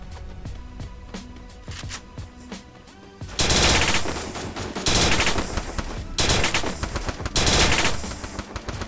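MP40 submachine gun fire in a video game, first as a series of sharp single shots, then as loud, sustained automatic bursts repeated several times with short gaps between them.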